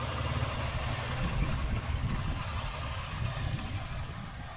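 A 3800 engine in a 2000 Pontiac Firebird idles steadily, a smooth, even low rumble heard close up with no other sounds over it.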